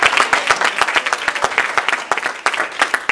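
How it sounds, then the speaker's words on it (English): Church congregation giving a loud, dense burst of applause, a hand clap of praise, sharp overlapping claps filling the whole stretch close and steady. "Give the Lord a hand clap of praise."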